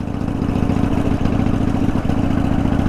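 A 1988 Harley-Davidson Softail Custom rumbles steadily at close range near a lakefront marina, its low engine note constant and unbroken with no voices.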